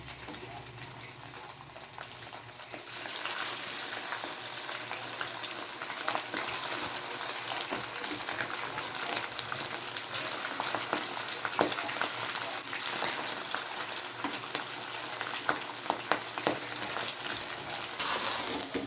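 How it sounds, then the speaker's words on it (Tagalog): Cooked glutinous rice dropped into hot coconut oil for biko, bursting into a loud, steady sizzle that continues with stirring scrapes after a quieter start. "ilagay na natin sinaing na malagkit sa ating mantika"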